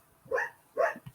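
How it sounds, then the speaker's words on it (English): A dog gives two distinct barks about half a second apart, fairly close and moderately loud, with a small yip-like sound trailing after. "Apologize for the dog barking, folks."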